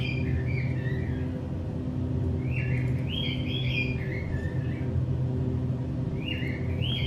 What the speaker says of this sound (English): The birds are going to continue all the way down.